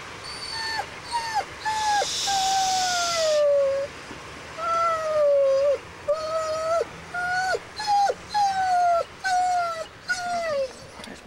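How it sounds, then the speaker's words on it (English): An unhappy dog whimpering indoors while rain falls, a series of rising and falling high whines repeated a dozen times, close and fairly loud over a steady background hiss. "There's my unhappy dog."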